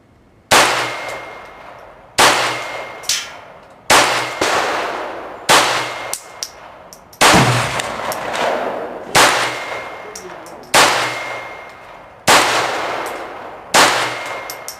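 A Ruger 22/45 pistol with a 5.5-inch bull barrel fires at steel targets about 25 yards away at an outdoor range, roughly ten sharp shots at a steady pace, each crack followed by a ringing metallic clang and decaying tail.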